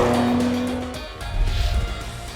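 A 2023 Nissan Z sports car with 400 horsepower pulls away, its engine note rising and fading before a loud, rumbling surge of acceleration close by, with no talk.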